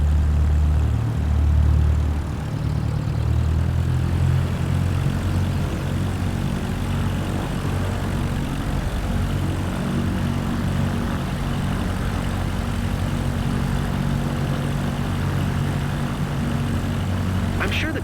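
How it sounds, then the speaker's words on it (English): A Cessna propeller plane taxis in Microsoft Flight Simulator 2024, its engine a steady, close, low droning hum with a throbbing low-frequency rumble that holds constant throughout. "Cessna Delta Lima Alpha Oscar Bravo is taxiing to parking"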